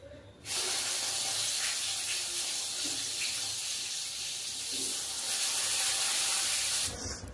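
Salted food frying in a pan: a loud, close, steady sizzling hiss that starts abruptly and holds for several seconds before cutting off, with no speech.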